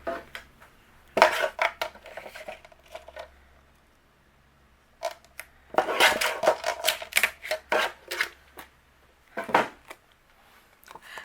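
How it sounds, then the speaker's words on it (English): A paper card panel trimmed down to size, sharp clicks and slides of a paper trimmer in a few short bursts separated by quiet pauses, close and fairly faint, no talking. "I'm going to trim it down to 3 inches."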